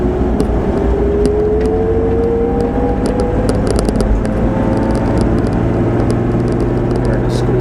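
A Toyota 2F engine warming up on the choke while the vehicle drives, a loud, steady low engine drone with a slowly rising whine throughout, close and continuous with no talk.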